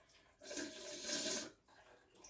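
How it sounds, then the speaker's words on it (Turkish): Air is blown hard through an aquarium air hose from a shrimp tank, making a single breathy rush that lasts about a second, close and fairly soft, followed by quiet. "Şu hortum hava hortumu. Şuradan bir üfleyelim."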